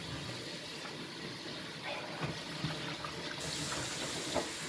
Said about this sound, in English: Make sure you wash it very well before cutting.